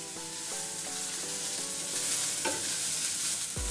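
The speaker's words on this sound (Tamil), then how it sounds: "இப்போ வெங்காயம் வந்து பொன்னிறமாக வதங்கணும்." Chopped onions sauté in a hot pan for potato 65, a steady close sizzle with rhythmic stirring scrapes and a heavier clatter near the end, no voices.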